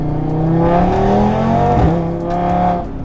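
A stage 2 tuned Audi RS3 engine revs up under hard acceleration in second gear, pitch climbing steadily, then briefly dips at a shift before pulling again, close and dominant.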